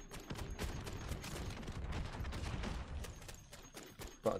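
In MW3 Zombies, a .50 cal assault rifle fires rapid, sustained bursts of loud, punchy gunshots, layered with the game's ambient effects and impacts.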